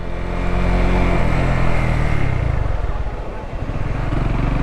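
A modified Runner Bolt motorcycle engine runs loud and close, a steady broadband roar that idles and revs unevenly with a brief rise early on, while a voice talks over it.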